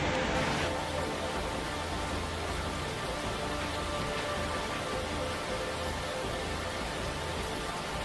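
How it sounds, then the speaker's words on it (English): Heavy rain pours down as a dense, steady hiss, loud and unbroken, with no voices. "The wind was accompanied by heavy rain and hail."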